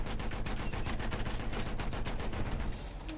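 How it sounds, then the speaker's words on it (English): Dense, continuous gunfire from a player's weapon in Battlefield 1, loud rapid shots packed into a steady fusillade across the whole stretch, with no talking. "Let me shoot in there real quick."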